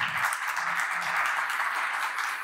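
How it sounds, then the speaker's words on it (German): An audience applauds after a talk at the KI Biennale in Essen, a full, steady wash of many clapping hands with a faint voice murmuring beneath it. "Ja, ganz großen Applaus."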